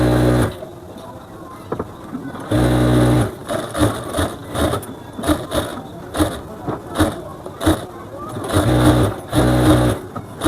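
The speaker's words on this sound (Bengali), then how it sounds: "এখন আপনাদেরকে একটি শার্ট সেলাই করে দেখাবো" A sewing machine stitches a shirt collar in bursts, with a close whirring drone that starts and stops between quieter gaps.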